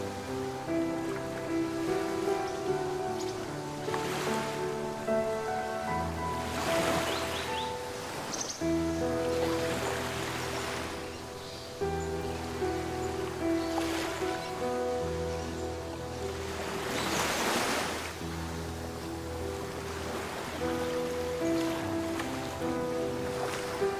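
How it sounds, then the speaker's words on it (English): Sea waves crash against rocks far below a cliffside sea temple on an island, with periodic distant surges of surf rising and fading beneath steady music. "Waves crashing against rocks far below"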